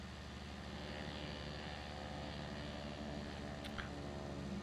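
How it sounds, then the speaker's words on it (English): A propeller airplane passes by in the Farming Simulator 19 video game, a steady, faint drone that hums evenly throughout with no talk over it. "There goes the plane."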